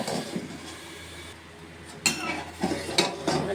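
A spoon scrapes and clinks against a cooking pot while gadhal leaf curry is stirred, with several sharp metallic knocks over a low background hum.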